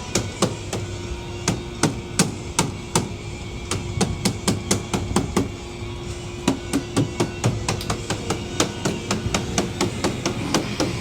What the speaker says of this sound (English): Then I just opened up that one slice and hammered it on, and then screwed it on.